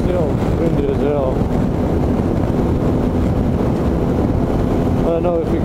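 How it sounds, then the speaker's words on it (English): Strong crosswind roaring into the helmet microphone while riding a BMW F800GS motorcycle on a Pennsylvania road, a loud constant buffeting rumble with brief faint voice fragments underneath. "It's so windy, I mean, it's crazy."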